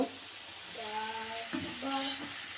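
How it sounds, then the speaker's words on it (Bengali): Mustard greens, bathua greens and lentil dumplings stirred in hot frying oil, giving a steady soft sizzle with brief scraping stirs and a tonal hum running underneath. "তেলের উপরে সরিষা শাক আর বেতো শাক আর বড়ি ভাজা একসাথে দিয়েছি দিয়ে ভালো করে নাড়াচাড়া করে নেব"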